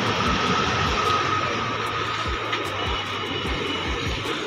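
A Habra local nano-coach train arrives at a station platform, with a steady loud rumble and rhythmic wheel thumps over the rail joints and no one talking.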